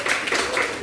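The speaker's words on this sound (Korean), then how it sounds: "박수 한번 해주세요." A class applauds together indoors at a lecture, a short steady burst of clapping from many hands at close range.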